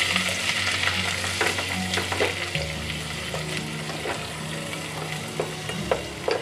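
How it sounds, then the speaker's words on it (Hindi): A prepared paste for misal is tipped into cumin frying in hot oil and stirred around the pan, giving a loud, continuous sizzle with scraping stir sounds running through it. "और अब मैं इसमें पेस्ट डाल रही हूँ जो हमने बना के रेडी रखा था। इसे मैं मिक्स कर रही हूँ।"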